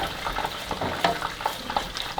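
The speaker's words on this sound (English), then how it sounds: "I'm gonna give them the good mix" Chicken wings for Thai tom yum style get tossed with a teaspoon of sugar in a hot pan, giving a steady close sizzle broken by a series of sharp utensil scrapes and clacks at an uneven stirring rhythm.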